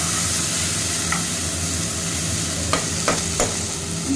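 Green chilies fry in a pan with a steady, fairly loud sizzle broken by a few sharp scrapes as they are stirred.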